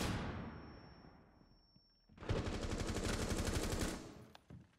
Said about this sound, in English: Oh, that flashbang's deadly